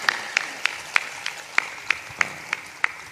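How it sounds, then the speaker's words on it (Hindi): Sharp, evenly spaced hand claps ring out about three times per second, crisp and fairly close, as a gathering claps to welcome MP Tanuj Punia. "सांसद तनुज पुनिया जी आ चुके हैं, एक बार ताली बजा"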